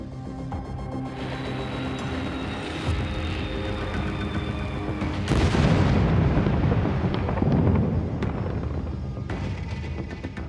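Dive bombers strike Japanese aircraft carriers at Midway, a deep booming blast swelling midway through, with rumbling detonations layered under a dramatic music score.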